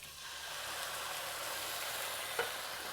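A tin of chopped tomatoes goes into frying garlic for a chickpea coconut spinach curry, and a steady hissing sizzle follows with one brief clink near the end.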